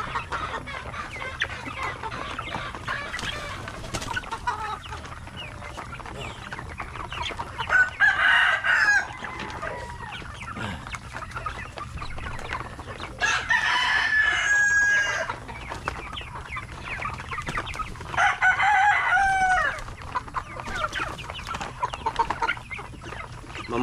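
Chickens and roosters cluck steadily with several loud crows cutting in, close by in a farmyard during watering time, with no voices.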